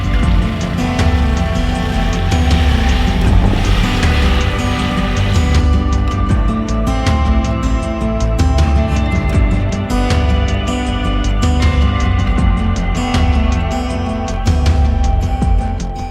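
A Honda CRF300L dual sport motorcycle rides steadily, its engine drone loud and continuous for the whole stretch, rising and falling slightly with throttle as it moves along without any talking.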